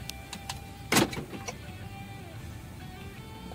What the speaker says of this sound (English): And we try to lock the car.